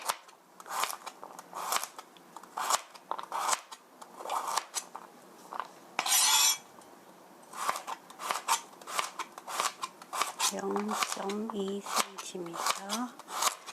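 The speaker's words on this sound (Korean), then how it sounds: "얇게 썰어주세요. 이렇게 썰어주시고요." A knife thinly slicing chicken on a cutting board, with many quick, crisp chopping strokes in an irregular rhythm, close up, while a person talks over the cutting.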